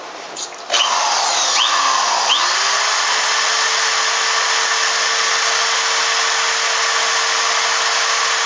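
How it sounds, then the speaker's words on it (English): A high-pitched electric drill spinning a firesteel striker whirs steadily after a short startup, a sharp scraping hiss running constantly over the motor's whine. "This is the fire striker in a drill."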